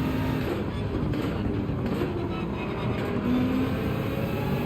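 Race cars pulling away together in Gran Turismo 7 at Watkins Glen, a dense, steady engine roar holding at even loudness throughout, with no talking.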